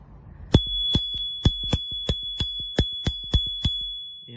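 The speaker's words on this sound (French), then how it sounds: "Là on a une sonnette" A bell on an electric scooter rings ten times in quick succession, bright metallic dings at a steady rhythm, close and clear with nothing else around.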